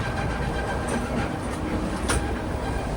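The Mangala Lakshadweep Express runs along the track toward Itarsi Junction with a steady, loud rumble and rhythmic clatter of wheels over rail joints, with a brief squeal, heard from inside a crowded sleeper coach.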